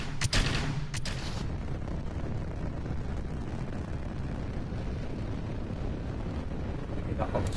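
Rocket engine ignition in the video game Kerbal Space Program: a couple of sharp bursts give way to a steady, loud, broadband roar that sustains throughout.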